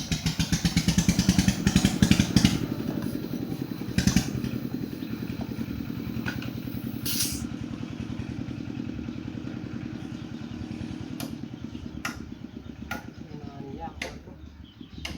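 Motorcycle engine idling with a steady mid-pitched chug, revved loudly near the start before settling, close by, while people talk over it and a few sharp clicks sound later on.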